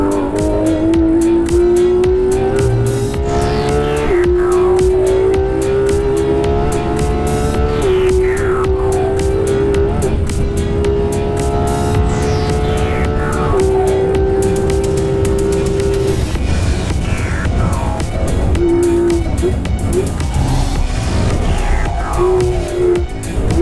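A Porsche 911 991.2 GT3 RS with its 4-litre engine, loud and close, revving steadily through repeated gear changes with rising pitch sweeps and brief drops between shifts, sustained for over twenty seconds without talk.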